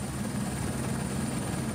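A helicopter arriving in Mafate on Réunion thrums steadily with a dense low rotor beat and a thin high whine, close and constant.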